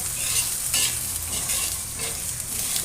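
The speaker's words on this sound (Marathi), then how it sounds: "आता हे छान भाजून घेते" Sesame and poppy seeds dry roasting in a pan for mutton rassa, with a steady soft rustling hiss and a few scraping stirs, close and alone without talk.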